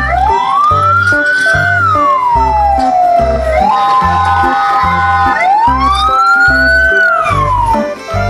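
A toy fire truck plays a loud electronic siren that wails up and down in two long sweeps over a steady pulsing beat, close and with no talk over it.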